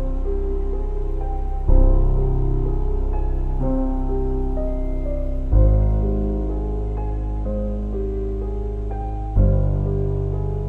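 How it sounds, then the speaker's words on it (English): A dark sample built from pianos and Balkan ethnic orchestra pad textures: slow, sustained low piano chords change every couple of seconds beneath a droning pad, played alone and steady. "With the pianos, it sounds like this."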